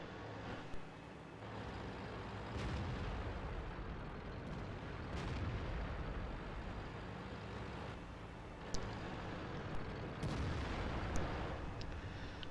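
Tank guns fire in a World of Tanks battle with an IS-4 and an AMX-30, sharp cracks standing out at a few points over a steady low engine rumble, with no talking.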